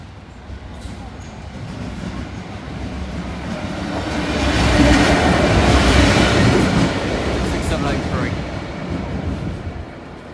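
A Biffa freight train rumbles past with a steady roar that builds to a peak midway and slowly eases, faint wheel clatter running through it.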